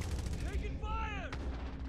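Gunfire in Call of Duty: Modern Warfare cracks out in a quick burst of close shots, with a ringing metallic tail between them.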